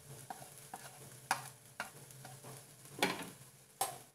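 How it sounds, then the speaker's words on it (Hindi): Onion and ground spices (turmeric, red chili, coriander and black pepper) fry in a pan, giving a soft, faint sizzle with intermittent scraping stir strokes at irregular intervals, close up and without speech. "इन मसालों को अच्छे से प्याज के साथ भून लेंगे"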